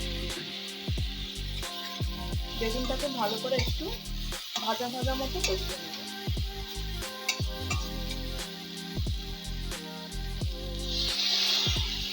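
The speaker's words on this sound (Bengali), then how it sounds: "আর মশলা ধোয়া জলটা অল্প অল্প করে দিয়ে আমি এটাকে একটু কষিয়ে নেব" Spices with turmeric and salt sizzle and fry in oil as spice-rinsing water is added bit by bit while sautéing for a pabda fish curry, a steady close crackle with scraping stirs and clinks of the spoon.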